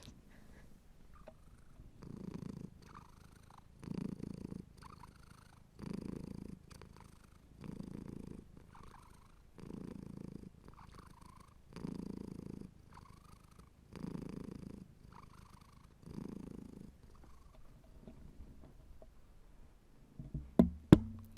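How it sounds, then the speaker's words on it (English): A cat purrs steadily up close in slow, rhythmic waves, each rumbling breath rising and falling, with a couple of sharp knocks at the very end. "Doesn't get much better than kitty purrs"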